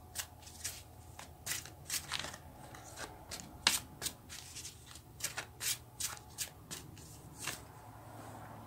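Tarot cards are shuffled by hand in quiet, repeated riffles and slides, soft and close in a still room.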